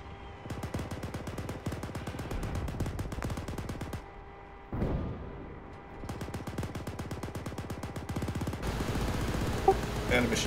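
Machine gun fire in the military shooter Arma 3, long rapid bursts of automatic shots broken by short pauses and a heavier boom, loud and continuous, with no talk over it.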